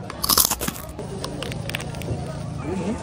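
A loud crunchy bite into crispy Filipino lechon (roast pork) at a lechon food park in Talisay, followed by softer crackling chewing sounds close to the mic.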